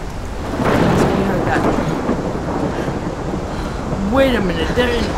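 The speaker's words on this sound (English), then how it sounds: "I've never seen a storm like this in Oregon." A thunderstorm in Life Is Strange, set in Oregon, rumbles as a loud, continuous roar of thunder, wind and rain, with a voice rising over it near the end.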